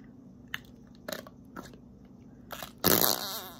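Toy slime from Dollar Tree squeezed with two fingers, giving a few short squelches before a loud, sustained wet fart-like blurt near the end, close up with no talking.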